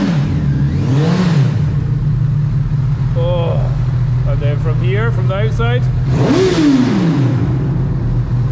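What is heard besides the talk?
motorcycle engine revving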